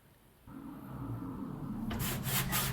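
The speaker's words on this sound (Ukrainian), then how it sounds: "Давайте ми його протримо." Rag rubbing across the casing of a dusty Skif-M jump starter and charger under repair, a close, steady scrubbing that starts after a quiet moment and grows louder with rhythmic strokes toward the end.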